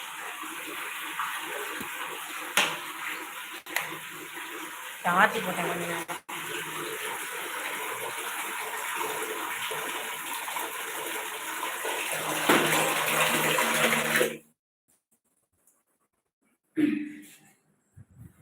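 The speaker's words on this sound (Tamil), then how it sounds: "இந்த தண்ணி பைப்பில் ஓடிட்டு" Water rushes steadily through a pipe, loud and continuous, with a few knocks and a brief spoken phrase before it cuts off into near silence.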